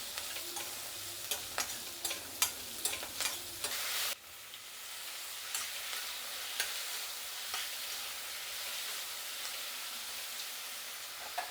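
Coriander seeds and spices frying in a pan, a close steady sizzle with sharp popping crackles and stirring clatter early on, then settling into a softer continuous fry.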